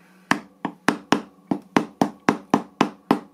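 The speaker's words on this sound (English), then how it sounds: "I'm tapping these rocks, giving them some texture" A tiny ball peen hammer taps carved wooden rocks to give them texture: about a dozen sharp, close, evenly spaced knocks in a quick steady rhythm.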